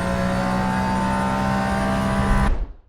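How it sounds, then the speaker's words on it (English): An electric race car motor in Le Mans Ultimate: a high electric motor whine over a roaring engine-like drone, steady and loud, then cutting off abruptly and fading away. "we can hear the whining of the electric regenerator on the braking and the whining of the electric motor"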